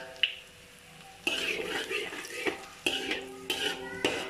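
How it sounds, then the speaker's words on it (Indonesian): Garlic sautéing in a pan for Maggi curry prawn noodles, Malaysian street food: a metal utensil scrapes and clatters against the pan in bursts over a steady, close sizzle. "Bawang putih kalau tumis memang sedap."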